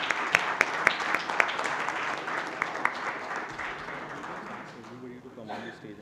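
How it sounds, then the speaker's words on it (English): An audience at an evening event at Novotel Goa applauds, a dense wash of clapping with a few sharp claps standing out; the applause fades toward the end, and a voice speaks near the end. "Let's have a huge round of applause for everyone."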